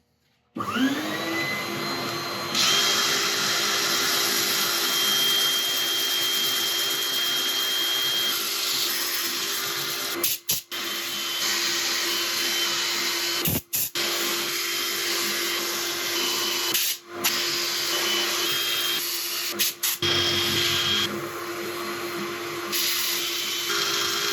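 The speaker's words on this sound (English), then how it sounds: "I'm going to set up for sanding" A steady, loud whirring machine drone with a high whine, running continuously with a few brief dropouts, from sanding turned holm oak on a spinning lathe.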